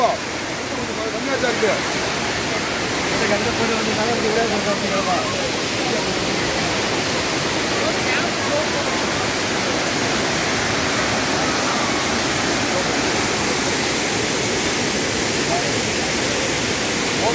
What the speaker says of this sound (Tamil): மலையினுடைய அருவிச்சாரல் சத்தம் ஓம் ஓம் என்று எழும்பிக் கொண்டிருக்கிறது